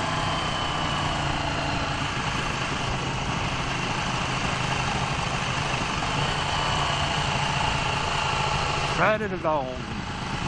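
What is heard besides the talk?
2016 Ducati 1299 Panigale S motorcycle engine idling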